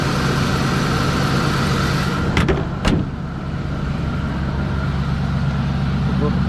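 A warmed-up 1979 Ford LTD II engine idles with a steady, even hum, broken briefly by a couple of faint clicks.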